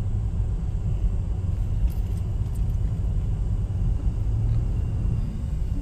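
A truck hauling a load of new cars rolls past on a residential street, its deep engine rumble steady and fairly close, filling the clip with continuous low road noise and no talk.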